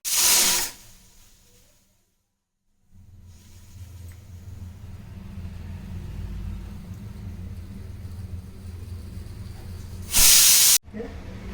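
A pressure cooker on a home kitchen stove, cooking beetroot, lets out a sharp hissing burst of steam, then a steady low rumble, and a second loud steam blast near the end.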